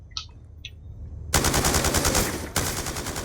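Rapid automatic gunfire from a video game, a dense sustained burst starting abruptly after a quiet moment, loud and continuous with a brief break before resuming.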